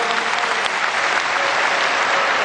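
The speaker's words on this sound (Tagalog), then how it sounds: "At milyong-milyong palakpak para sa upline namin," Steady, dense applause from an audience honoring an upline at a networking testimonial event, filling the whole stretch evenly with no break or speech.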